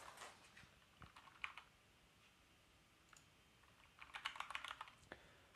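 Keys clacking on a computer keyboard in a quiet room, a soft scattered run of taps that builds into a quicker, denser burst near the end, with no voices present.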